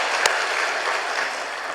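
A church congregation claps together during a Sunday service on a hot day, a steady dense burst of applause filling the room for a couple of seconds with no talking over it.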